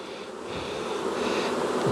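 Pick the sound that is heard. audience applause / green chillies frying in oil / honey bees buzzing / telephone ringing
honey bees buzzing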